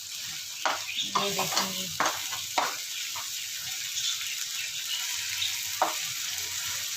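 Okra cooks with yogurt in a pan, a soft continuous sizzle with a few stirring knocks and scrapes up close while a voice speaks briefly.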